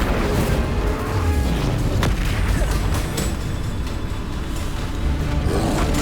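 Explosive spells cast in Hogwarts Legacy: a steady barrage of booming blasts and bursts with rumbling low-end impacts, loud and continuous with no pauses.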